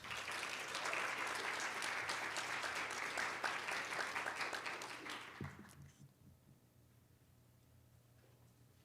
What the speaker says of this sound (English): Can we give one more round of applause to all of our presenters?